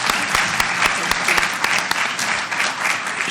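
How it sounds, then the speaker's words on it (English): A large audience applauds steadily for a former First Lady of Papua New Guinea at a malaria health-equity event, dense continuous clapping close and loud throughout. "if you can give her a very big round of applause."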